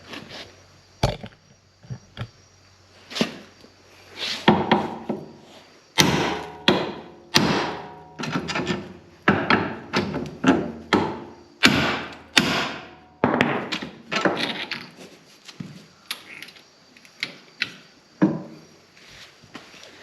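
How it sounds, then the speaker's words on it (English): A hammer strikes a steering knuckle on a Kawasaki Mule Pro FXT over and over, hard irregular blows in quick bursts, loud and close with short gaps between volleys. "I just smack them with a hammer"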